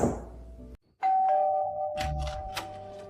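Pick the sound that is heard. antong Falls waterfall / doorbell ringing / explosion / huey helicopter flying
doorbell ringing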